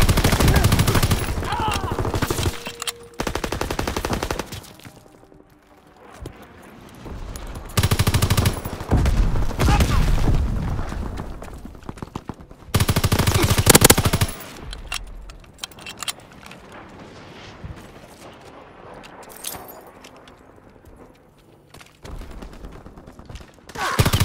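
Gunfire in Call of Duty: WWII, loud bursts of automatic fire and single shots in uneven clusters separated by quieter gaps with mechanical clatter.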